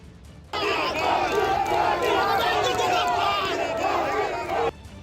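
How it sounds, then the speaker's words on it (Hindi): BJP supporters at a Parivartan Yatra rally clap and chant slogans for Prime Minister Narendra Modi, a loud, dense crowd roar of massed voices that starts abruptly and holds for about four seconds before cutting off. "बीजेपी की परिवर्तन यात्रा में शामिल लोग ताली बजाते हुए प्रधानमंत्री नरेंद्र मोदी के समर्थन में नारे लगाने लगे।"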